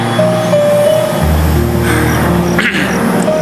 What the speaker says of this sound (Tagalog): Katabi po kami ng expressway.